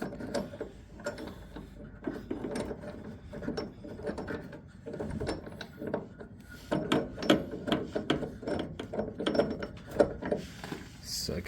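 Ratchet clicking and metallic wrench work while tightening subframe body mount bolts on a 1969 Camaro fitted with new body mounts, steady bursts of mechanical rattling close by with clunks and scrapes throughout.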